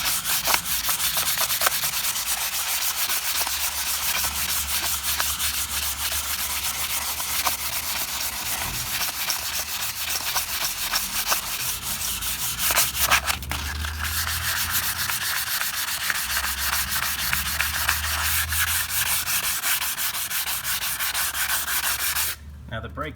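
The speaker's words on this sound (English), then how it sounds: "I'm going to just take a little bit of fine sandpaper and run it around here to get off some of this rust." Fine sandpaper rubbing rust off a new brake rotor on a 1998 Porsche Boxster 986, a steady close scratchy hiss of continuous back-and-forth strokes for over twenty seconds, with no talking.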